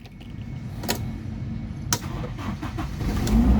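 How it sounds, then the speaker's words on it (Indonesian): Manual 2000 Toyota Kijang 1.8 LGX being started, a couple of sharp clicks, then the engine catches and settles into a steady, gradually rising idle close by, with no talk. "Kita coba nyalakan mobil."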